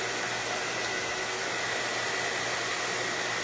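A hair dryer on low blows steadily at close range over painted journal pages, a constant broadband whoosh with a faint motor whine, unchanging throughout.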